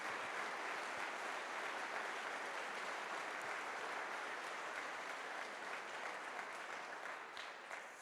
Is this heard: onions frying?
no